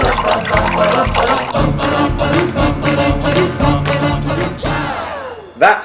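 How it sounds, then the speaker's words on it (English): Red diesel is poured into the cylinders of an old Ferguson tractor engine, a steady liquid glugging and trickling with rhythmic pulses, ending in a short clatter. "That's good old red diesel we're pouring into the cylinders."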